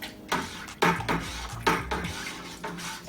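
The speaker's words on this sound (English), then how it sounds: "Now we'll take our spoon," A spoon clinks and scrapes against a pot or bowl in a few quick bursts, close up, with a faint liquid swish between strokes, stirring honey and water for mead.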